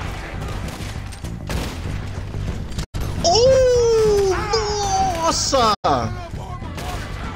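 A gun fires repeatedly while a character walks in Red Dead Redemption 2, a run of sharp shots, then a voice lets out a drawn-out exclamation over continued shooting.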